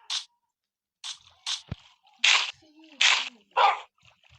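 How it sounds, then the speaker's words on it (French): Dogs or wolves in a survival video game give a series of short, sharp barks and yelps in uneven bursts, fairly close, with quiet gaps between them and no talk over them. "Là, des chiens, des loups, comme vous voulez."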